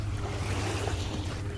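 Ocean waves washing against the shore in Vancouver on a morning walk, a steady continuous wash of surf with a low rumble and some wind, no voices over it.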